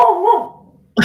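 A dog lets out one loud, close bark that trails off, followed by a brief burst of sound at the end.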